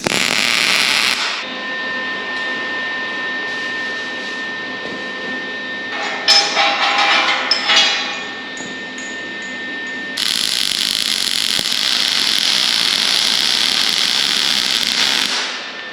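Steel hinge pieces and nuts being welded onto a truck tailgate during an all-steel 1930-style truck bed build: a steady, loud crackling hiss runs through the clip with brief breaks and shifts in intensity, no talking.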